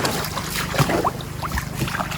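A small boat moving on a river in the Philippines, with low motor drone, splashing water and wind buffeting the microphone.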